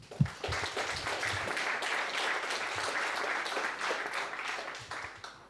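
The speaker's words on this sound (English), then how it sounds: "Let's clap them." Sustained audience applause at a Munich AI summit thanking event sponsors, a dense steady wash of many hands clapping for about five seconds, fairly loud and even, with no talk over it.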